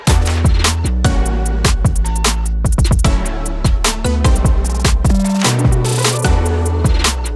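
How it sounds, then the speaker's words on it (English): A busy hyperpop-style K-pop track plays loud and dense, punchy drums and deep bass driving a fast chopped groove with glittery ear-candy loop textures sprinkled over the top, no talking. "my hyper pop track sounds like this in my song"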